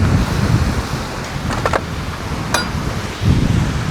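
Steady wind and rough surf at sea ahead of a coming storm: a constant broadband roar of wind and waves with gusty low rumble, a couple of brief higher-pitched tones mid-way, and no voices.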